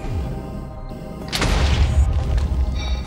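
A plasma cannon fires in a Minecraft modpack game during a battle against a dragon, giving a loud booming blast that rolls into a sustained rumble.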